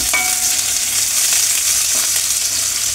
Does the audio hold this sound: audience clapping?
no